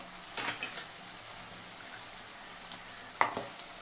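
Chicken with fried potatoes braises in a pan for a fish-style curry, a soft steady sizzle under two sharp clinks of a utensil against the pan, close by.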